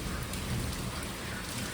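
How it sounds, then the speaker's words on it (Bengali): Heavy rain pours down steadily during a thunderstorm with lightning, producing a dense, continuous hiss of drops pattering on surfaces close by, with no voices. "প্রচন্ড জোরে বৃষ্টি হলো এতক্ষণ, এখনো হচ্ছে"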